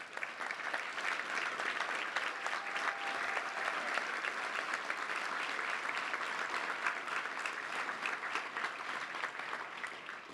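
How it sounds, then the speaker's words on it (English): Applause fills a luncheon hall at a Little Rock Touchdown Club meeting as coaches from local schools stand to be recognised, a dense, steady clapping from a large crowd that holds level for about ten seconds with no speech. "please stand and let's give you a round of applause."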